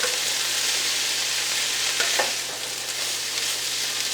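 Chili meat sizzles and fries steadily in a pan, a continuous crackling hiss with a brief stir partway through and no voices.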